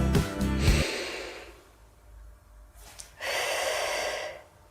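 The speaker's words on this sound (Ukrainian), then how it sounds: "Ставимо руки на ребра і вдихаємо" A deep inhalation with hands resting on the ribs during a vocal breathing lesson: two audible breaths, the first loud and close, a quieter gap, then a second long airy intake, with no talking.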